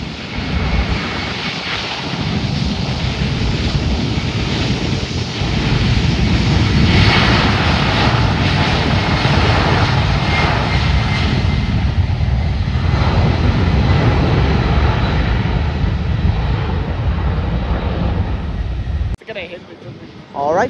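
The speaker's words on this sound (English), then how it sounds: "There it goes, guys. 767-400 heading to Newark. United Airlines 1173 Heavy." A United Airlines Boeing 767-400 heavy jet takes off, a loud, sustained roar of aircraft engines building and holding before cutting out near the end.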